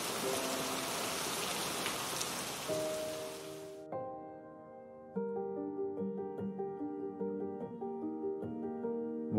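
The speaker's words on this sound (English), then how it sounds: "The feathered folk must brace themselves for a heavy downpour." Steady heavy rain hisses loudly for a few seconds, then gives way to gentle music.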